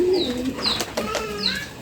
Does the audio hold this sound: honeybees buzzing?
no